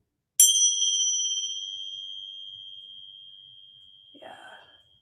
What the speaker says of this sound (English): you just know as soon as you hear that bell, it's time to relax